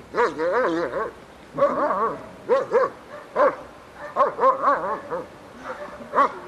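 A dog at a 1997 IPO working-dog competition gives a run of high, whining yelps and barks in close, uneven bursts over several seconds, with no talk over it.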